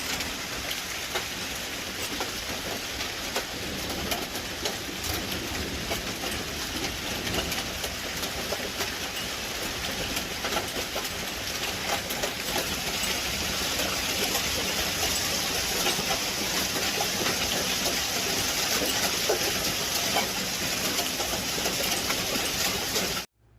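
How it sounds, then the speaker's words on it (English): An intense hailstorm of huge hailstones pounds down in a dense, constant roar for over twenty seconds, loud and unbroken, with no voices. "I have never experienced that intense amount of hail since we've lived here."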